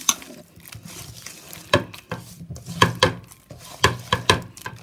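A hand mixes ginger garlic masala with egg in a bowl for a stingray fish fry marinade, giving irregular wet slaps and clinks against the dish, some sharp and close, with quiet gaps between.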